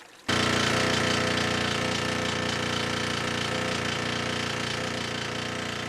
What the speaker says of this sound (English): turning it into the power of driving the pneumatic drills